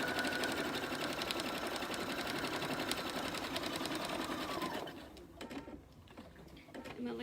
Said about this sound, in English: I'm going to do a little back stitch.